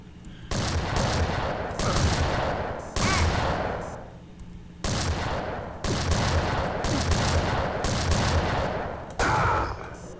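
Gunfire in the video game Unreal 2: The Awakening: loud, close bursts of rapid shots in several long volleys with short pauses between them, and no talk.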